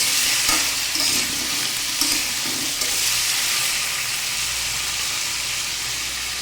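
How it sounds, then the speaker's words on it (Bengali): Cucumber and potato pieces stir-fried in oil with cumin, turmeric and salt, with a steady hissing sizzle and soft scraping stirs early on that settle into even frying. "শসা, আলু আর হলুদ লবণ দিয়ে মিশিয়ে ভালো করে নেড়ে চেড়ে ভেজে নেব"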